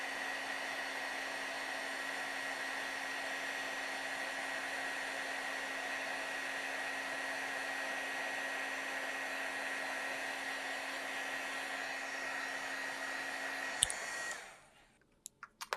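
A heat embossing tool blows steadily for about fourteen seconds, melting embossing powder on a stamped card, a constant airy whir with a fixed hum that cuts off abruptly, leaving near silence.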